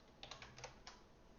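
Several quick, faint computer keyboard keystrokes in a short irregular burst, with quiet background and no voices.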